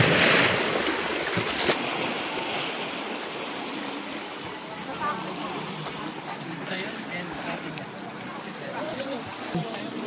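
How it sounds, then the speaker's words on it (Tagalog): Steady rushing surf of ocean waves at Maragondon fills the whole stretch, loud and continuous with wind noise buffeting the microphone. "Lakas naman ang puwersa ng karagatan."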